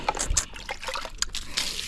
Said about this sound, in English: This one has not yet adapted, so I'll just pour enough water.